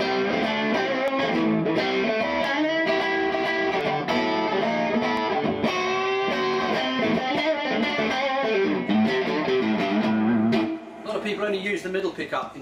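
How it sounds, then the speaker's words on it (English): A Fender Custom Shop 60s relic Stratocaster in Sonic Blue with a rosewood board plays through its middle pickup alone, a Fat 50s unit. Strummed chords ring out loud and continuous, then give way to a few lighter plucked notes near the end. "Middle pickup on its own, it's the fat 50s on its own."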